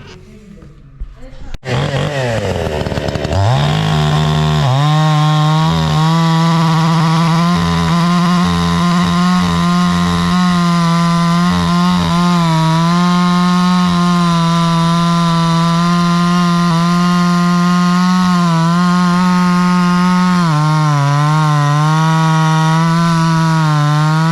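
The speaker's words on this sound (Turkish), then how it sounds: "Hyundai güzel 859 motorlu testereyi tamir ettik" A Hyundai H859 chainsaw engine starts with a few sputters, then runs loud and close at a steady idle, its pitch shifting slightly now and then.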